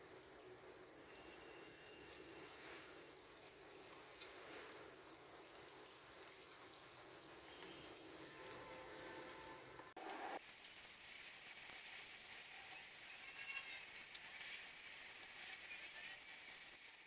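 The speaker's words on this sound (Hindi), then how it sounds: "अब हम इन्हें फ्राई करेंगे।" Bread egg rolls fry in hot oil over a medium-to-low flame, making a steady, rain-like crackling sizzle that runs throughout. Its tone shifts partway through, then the sizzle carries on evenly.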